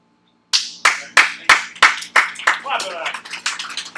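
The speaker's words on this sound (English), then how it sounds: "Clap it up" A small audience starts clapping after a moment of silence, first as slow, separate, sharp claps and then as looser, overlapping clapping that fades slightly.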